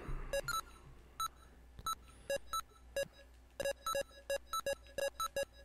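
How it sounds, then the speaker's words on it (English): A Legend of Zelda LCD handheld game gives out a series of short electronic beeps as an enemy is stabbed, arriving in quick irregular clusters, thin and clear against a quiet background with no speech. "I love the little beep, beep, beep as I'm stabbing him in the face"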